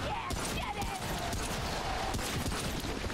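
Rapid gunfire in a video game crackles in a dense, continuous volley, loud and close, with a player talking over it.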